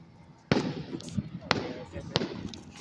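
Independence Day fireworks bursting outdoors, three sharp loud explosions spaced about a second apart over a steady crackling rumble, with voices faintly in the background.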